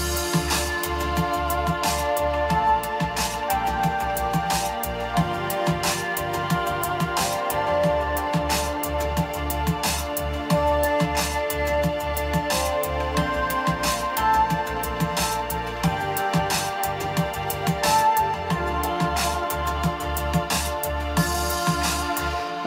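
Synth melody from a new Frozen Synapse game music track, an electronic piece with a steady pulsing beat and bright layered tones running throughout, full and continuous with no talking.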